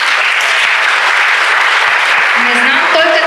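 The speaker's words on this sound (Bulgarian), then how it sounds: "Няма ли малко аплодисменти?" Sustained, dense applause from a seated audience at a drug-prevention opening event in Veliko Tarnovo, loud and continuous throughout, with a few faint voices surfacing near the end.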